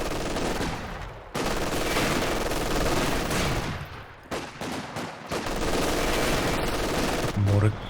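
Company of Heroes 2 3v3 battle: dense, continuous gunfire with rapid machine gun bursts and blasts, loud and layered throughout and ending in a low thump.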